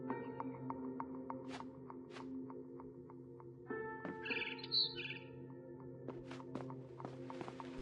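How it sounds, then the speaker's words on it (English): Sharp, bright chirps of a barn swallow in a video game ring out singly at intervals against a quiet background hum, with a brief flurry of twittering midway. "Then I heard chirping outside my window."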